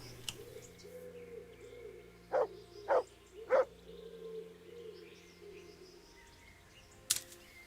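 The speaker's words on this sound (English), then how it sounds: "I'm pretty sure that's the sound of a pigeon." Three short low pigeon coos in quick succession in the video game Kingdom Come: Deliverance, then a pause and one more sharp call, fairly faint over a quiet steady hum.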